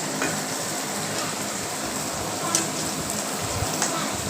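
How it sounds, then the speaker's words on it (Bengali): Onion and potato fry in a pan with a steady, even sizzle, a dense hiss running throughout with a couple of faint clinks. "ওটা হতে হতে ওটাখানে পেঁয়াজ আলুটা ভাজা হচ্ছিলো"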